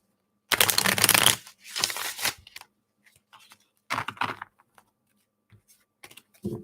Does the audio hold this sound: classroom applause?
no